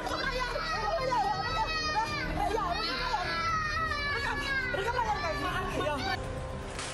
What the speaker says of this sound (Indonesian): terdengar tangisan anak kecil